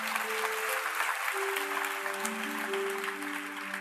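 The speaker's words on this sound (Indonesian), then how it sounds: "Berikan tepuk tangan untuk Tuhan Yesus." Church congregation applauding during a sermon, a steady wash of many hands clapping at moderate level, with sustained musical tones from instruments ringing underneath throughout.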